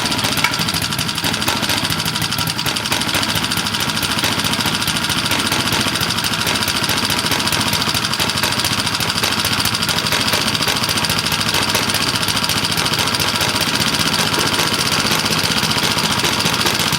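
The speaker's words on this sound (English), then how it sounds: "And that engine, you can run it for more than 8 hours." A small engine under a long test run drones steadily and loudly up close, a dense continuous mechanical roar with knocking vibration that holds level throughout, with no talking.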